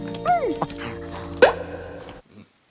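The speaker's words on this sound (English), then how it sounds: "So that's what it sounds like when dogs fuck." Dogs making mating noises in the film Bingo: a string of high whimpers, yips and whines with a sharp yelp near the middle, close and fairly loud, then stopping abruptly into near silence.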